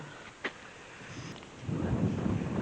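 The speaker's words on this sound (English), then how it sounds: "It's really super windy out here" Low, blustery rumbling from wind buffeting the microphone, growing heavier toward the end, with no voices.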